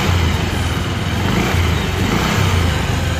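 A Bajaj Pulsar 150 motorcycle engine runs in first gear with the clutch out but without moving, its whole engine shaking as it throbs in a rough, pulsing idle at close range with no voices.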